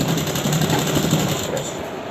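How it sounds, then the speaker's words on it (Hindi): An electric sewing machine stitches cloth for a trouser cross pocket, its needle running in a fast, steady, close mechanical whir for a couple of seconds with no pause. "इस तरह हम इसको सिलाई लगा देंगे"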